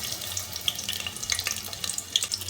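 Onions tipped into hot oil in a pot, setting off a close, crackling sizzle with scattered sharp pops over a low steady hiss.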